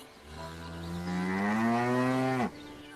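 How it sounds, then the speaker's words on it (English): A single long cow moo, loud and close, rising then swelling before cutting off sharply, with no talk over it; the animal is a farm cow with its calf nearby. "Look at your cow, Lakshmi, and its calf"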